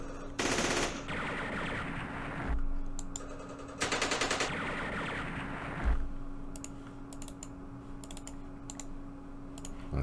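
Gunfire in a Middle East wargame on PC comes as two bursts of rapid shots with sharp clicks between them and scattered sharp snaps afterward, no voices.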